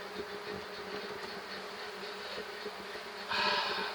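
Honey bees from a swarm colony buzz steadily around an opened hive during inspection, a soft, dense drone with individual bees passing close and a louder swell near the end.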